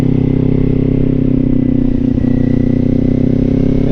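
A 400 motorcycle rides steadily in third gear on a road near Suches, Georgia, its engine droning at constant revs close to the rider with wind noise mixed in.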